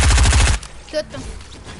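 Rapid video game gunfire bursts in a tight, fast rattle for about half a second, then stops, leaving faint game sounds.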